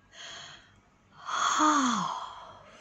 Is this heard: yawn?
yes